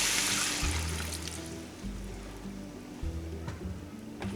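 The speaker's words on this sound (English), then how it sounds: "Okay, we're ready to pour in the beef broth." Beef broth for a cheeseburger pot pie pours into a hot pan of cooked ground beef, a steady liquid splash that fades into softer bubbling and sizzling, close and fairly quiet.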